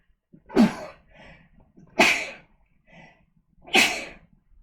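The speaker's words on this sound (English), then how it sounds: "I'm going to sneeze." Three sharp sneezes, evenly spaced about a second and a half apart, loud and close, with softer breathy sounds between them.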